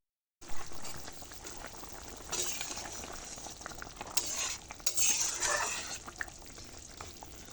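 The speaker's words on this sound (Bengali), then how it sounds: "এবারে ভাজা মাছগুলো দিয়ে দেবো" Fried rohu fish pieces go into a simmering tomato curry with water and get stirred, giving a steady close-up bubbling and sizzle with scraping stir bursts midway and no talking.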